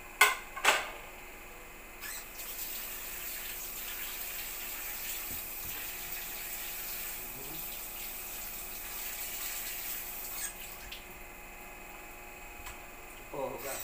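Oregano and other leaves washed under running tap water, a steady soft rush of flowing water with a low hum throughout and a few small splashes and knocks near the start and end, fairly faint, with no talking.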